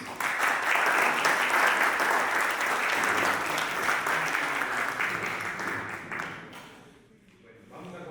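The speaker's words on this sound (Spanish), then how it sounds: "Aplauso para Jesús." A congregation of the San José men's group breaks into steady, dense applause at a Catholic church gathering, sustained for several seconds before thinning and fading out near the end.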